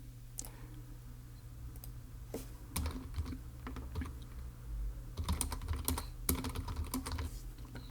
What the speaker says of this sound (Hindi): इधर हम वो टाइप करेंगे जो मैं बोल रहा हूँ